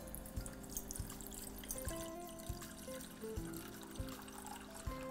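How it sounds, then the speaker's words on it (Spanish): Water trickles and pours into a pot on a stove for a chocolate and hazelnut pudding's water bath, a faint, steady stream punctuated by soft clunks and knocks of kitchen handling. "vamos a colocar agua"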